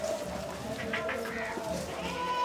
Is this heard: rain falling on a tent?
no